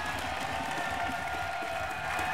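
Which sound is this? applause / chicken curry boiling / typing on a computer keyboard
applause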